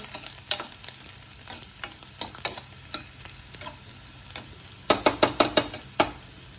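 Garlic, dried red chili and cumin roast in a pan under a steady dry sizzle, broken by repeated scraping spatula stirs, with a quick burst of five or six sharp scrapes near the end.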